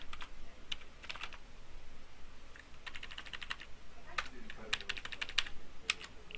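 Word-processing text being typed on a computer keyboard: quiet, close clusters of quick key clicks arrive in bursts separated by short pauses, with no talking.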